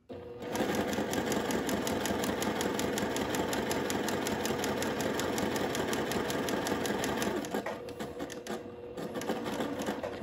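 A sewing machine stitching fabric slowly around a curve of a sundress: a fast, steady, close mechanical chatter of rapid needle strokes that runs continuously, slowing and faltering briefly near the end before resuming.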